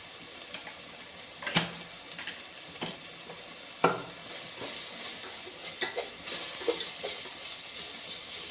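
Ground coriander, garam masala and turmeric sautéing in a pan for a veg biryani with green peas and black chickpeas, a faint continuous sizzle broken by irregular scrapes and taps of stirring.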